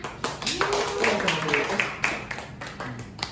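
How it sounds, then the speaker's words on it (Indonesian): Students in a classroom clap in short, scattered bursts while a teacher's voice carries over them, fairly close and moderately loud. "Ya, tepuk tangan."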